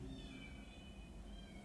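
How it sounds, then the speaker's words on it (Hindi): Cats meow in a park, a faint, drawn-out wail heard from a distance over a low background hum. "ये शायद बिल्लियों की आवाज़ है।"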